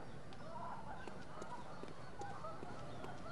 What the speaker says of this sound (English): I've never noticed these birds before.